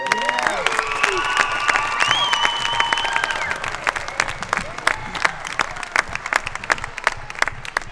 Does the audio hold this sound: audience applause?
yes